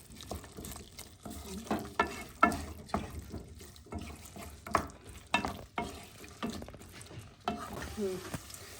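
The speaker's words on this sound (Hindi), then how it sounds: "उसके बाद इसको 10 मिनट तक धीमी आंच पर इसको भूनिए, जब तक कि तेल दिखने ना जाए।" Butter chicken masala being fried and stirred on a low flame, with a steady soft sizzle under repeated scraping strokes of a spoon through the thick mixture at close range, no talking.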